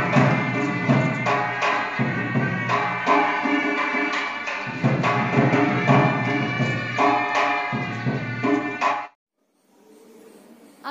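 Temple nagarkhana ensemble at the Shrinathji shrine playing drums with other instruments in a dense, loud and continuous stream of rhythmic music, which stops abruptly and leaves only faint room noise.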